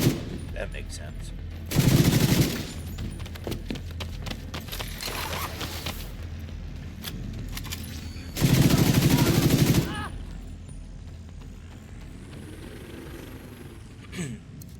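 Machine gun fire in the shooter game The Division 2, two sustained loud bursts of rapid automatic shots separated by quieter gameplay noise and scattered sounds, close and dominant.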